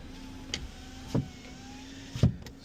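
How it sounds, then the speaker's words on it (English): A Honda Civic's AC compressor clutch engages with a couple of dull clunks over a faint, steady hum from the car, heard close up with no talking. "You can hear the compressor engaging"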